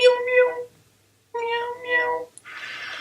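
A person imitates a cat with two drawn-out meows separated by a pause, the second wavering in pitch, followed by a short breathy hiss.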